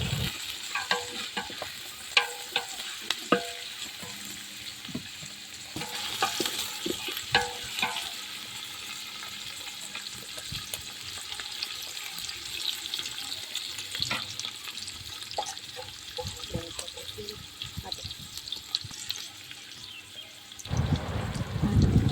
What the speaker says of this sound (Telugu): వెల్లుల్లి, అల్లం, అలాగే కరివేపాకు అన్నీ వేసుకుని బాగా ఫ్రై అయినవ్వాలి.